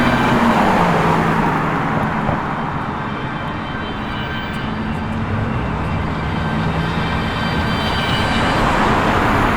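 A Ford with gold wheels pulls away from a car show at Penrith Homemaker, its engine a steady, loud rumble mixed with broadband traffic noise for the whole stretch, no talk heard.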